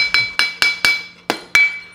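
Six sharp metallic hammer blows ring out on an anvil as a horseshoe heel is folded over into a heel cork, struck in an uneven rhythm with a short pause before the last two, each strike bright and clanging with a brief decay.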